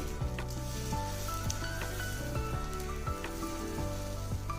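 Thin dosa batter spreading and sizzling on a hot pan for an instant healthy dosa, a steady close frying hiss with occasional soft clinks and scrapes throughout, no talking.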